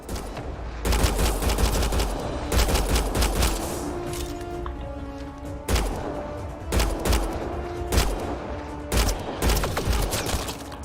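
Dense gunfire from the video game Mass Effect Andromeda, rapid bursts and heavy thumping shots repeating throughout with brief pauses, loud and close, with no talk over it.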